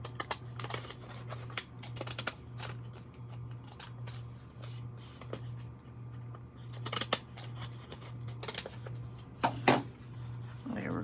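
Scissors snip repeatedly through craft material, with a series of close, crisp cuts at an uneven pace over a quiet steady hum, and no talk.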